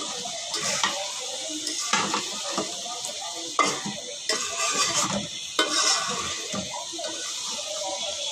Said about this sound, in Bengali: এই তো মাংসটা ভালো করে কষিয়ে নিলাম।